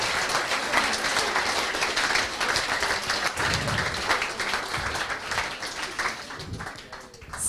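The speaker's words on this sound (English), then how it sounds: "Applause." Sustained audience applause at a tech event on artificial intelligence, dense steady clapping from a room full of people that carries on for several seconds without talk, easing slightly near the end.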